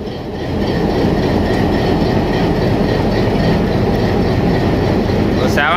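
The Millat Express departs Sargodha with a Hitachi locomotive on the lead, and its steady rolling rumble and wheel clatter build up loudly and continue throughout, with a sharp squeal near the end.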